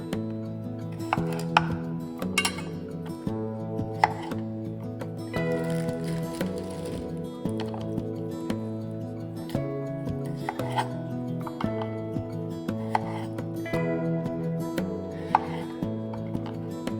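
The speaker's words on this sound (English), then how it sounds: "I'm going to start by cutting my baby potatoes." Baby potatoes being cut with a knife on a cutting board, giving sparse, soft chopping taps over steady background music.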